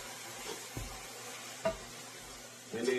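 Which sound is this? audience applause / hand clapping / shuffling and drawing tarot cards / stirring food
stirring food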